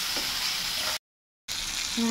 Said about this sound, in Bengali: আস্তে আস্তে মাছটাও ভাজা হবে আর মশলাটাও